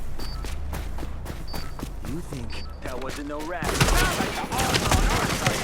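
Gunfire in Tom Clancy's The Division: rapid repeated shots crack in bursts, then a denser, louder barrage takes over, with footsteps and a voice talking over the shooting.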